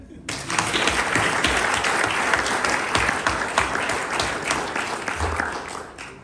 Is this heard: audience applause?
yes